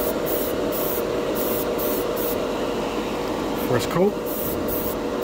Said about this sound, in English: between this airbrush and the Mr. Color paints, you almost can't do any wrong here